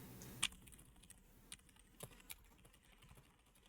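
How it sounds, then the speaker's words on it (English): Computer keyboard typing during a Mechwarrior Online gaming session, a quiet scatter of irregular key clicks with one sharper clack early on and no talk. "my keyboard's too loud."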